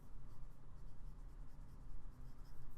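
A vintage Pelikan 400NN fountain pen with a medium 14 karat nib scratches softly across paper in a close, continuous writing stroke with faint rhythmic pulses.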